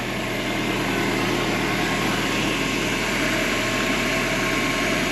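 Mercedes 220E petrol engine settling into a steady idle, a continuous even hum with a low rumble, close and unchanging throughout with no talk.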